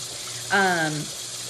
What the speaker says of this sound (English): I'm just going to get my cloth wet with the warm water